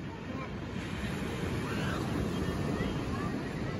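Surf rolling in at Port Maitland Beach on a cold day, a steady broadband wash of breaking waves with heavy wind buffeting the microphone throughout.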